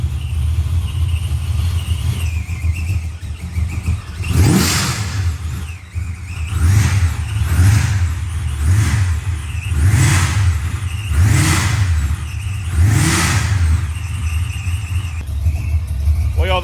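A 2024 Ford Bronco Raptor with a ProCharger supercharger revs repeatedly, each of about six rising blips carrying a high supercharger whine over a steady loud engine drone.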